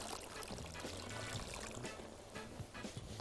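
Hot water pouring into a glass jar packed with peaches for homemade peach compote, a steady close splashing and trickling that runs throughout with no talk.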